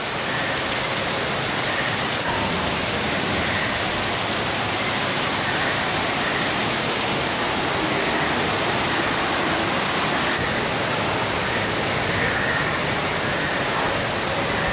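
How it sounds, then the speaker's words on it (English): Moving water rushes continuously in Pandora at Disney's Animal Kingdom, a steady, even wash like a nearby waterfall or stream filling the whole stretch with no voices. "All the moving water makes it like slightly cooler."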